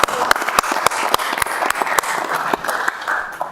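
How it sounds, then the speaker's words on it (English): Audience at a city council meeting applauds with loud, close handclaps, individual sharp claps standing out over a lively crowd clatter that carries on steadily and drops off at the end. "let's have a round of applause for those guys."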